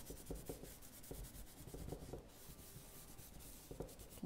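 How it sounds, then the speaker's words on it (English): Cloth rubbing wax into a cane basket, a soft, faint, steady scrubbing and rasping with repeated strokes, close and quiet, with no voice. "with the same cloth, just rubbing that wax in"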